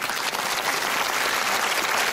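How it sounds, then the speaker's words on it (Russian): Audience applause at a comedy duo's stage performance, a dense, steady wash of many hands clapping, loud and close, with no voices over it. "Под ваши аплодисменты."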